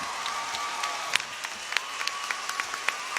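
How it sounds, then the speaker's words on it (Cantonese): A concert audience applauds the Hong Kong band at a 2004 concert, fairly distant, moderate clapping with scattered sharper individual claps throughout. "俾啲掌聲我哋香港嘅樂隊"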